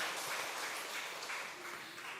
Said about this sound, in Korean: 우리 이 구역 힘낼 수 있도록 우리 격려의 박수 하겠습니다